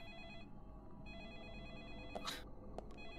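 A telephone rings inside the horror game Deadly Premonition, with a steady electronic tone over low game ambience and sharp bright bursts near the end.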